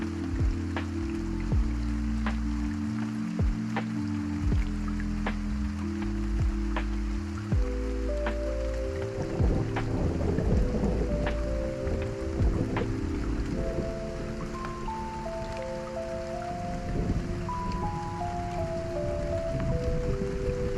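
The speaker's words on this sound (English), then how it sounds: "The simple sound of rain can make you sleep better." Steady rain falls with an even hiss throughout, under soft melodic music and with no voices.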